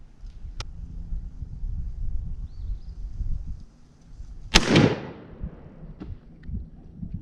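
A single loud 20 gauge shotgun blast from a New England single-shot, firing a TSS load at 35 yards outdoors, cracks sharply near the middle and rolls off in a short echo over faint wind.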